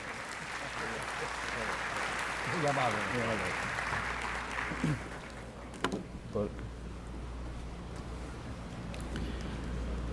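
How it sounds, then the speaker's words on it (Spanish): An audience applauds a lecturer introduced for a keynote talk on nanotechnology, the dense clapping loud at first and then fading into a quieter room with a few isolated sounds. "Nuevamente, las palmas para él."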